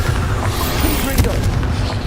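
A Confringo blast spell from the game Hogwarts Legacy, a loud fiery burst amid continuous battle noise, with a sharp impact near the middle of the short stretch.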